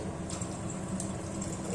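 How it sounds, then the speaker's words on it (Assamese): Water pours into a hot pan over high flame during cooking of chana dal with paneer, a brief steady splashing gush with no voices. "এগিলাচ পানী দিছোঁ আৰু অলপ দিম।"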